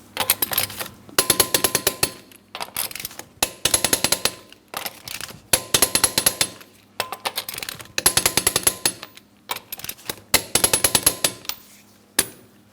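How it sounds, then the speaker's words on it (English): A torque wrench clicks and ratchets in repeated bursts while tightening lug nuts on a 2003-2007 Cadillac CTS wheel in a crisscross pattern, close and loud, with no talk. "let's torque these lug nuts to that 100 foot-pounds in a crisscross manner"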